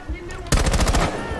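A rapid burst of machine gun fire in the video game Rainbow Six: a short lead-in, then loud, close, fast repeated shots rattling for about a second.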